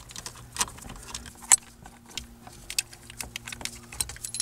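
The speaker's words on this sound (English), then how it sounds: "And we can take these bolts out." Bolts being unthreaded and pulled from a steering wheel puller on a 2008 Toyota Matrix/Corolla, giving a run of light metallic clicks and jangles spread across the clip, close and fairly faint under a steady low hum.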